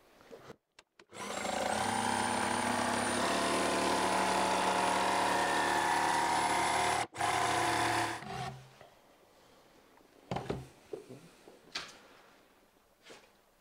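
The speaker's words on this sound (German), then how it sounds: "Jetzt können wir die Stichsäge ja wieder gerade hinsetzen und können einfach unseren geraden Schnitt machen." A jigsaw making a straight cut through a wood panel for a laser engraver enclosure, running loud and steady for about six seconds with a brief pause, then stopping, followed by scattered handling clatter.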